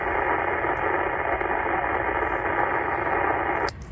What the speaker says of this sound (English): I can't hear what he's saying because I'm fighting with noise at the minute. I've just got this horrendous tone right across the band